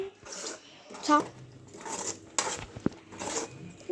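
A spoon scrapes and clinks against a pan while upma is stirred, several separate scraping strokes with short pauses between, and someone talks over it.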